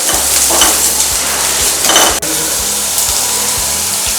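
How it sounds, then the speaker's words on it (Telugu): Spring onions fry loudly in a pan for a hot chicken soup, a dense close sizzle with rhythmic stirring scrapes about every half second and a brief dropout near the middle, no speech. "Next spring onions. వీటిని ఫ్రై చేసుకోవాలి బాగా."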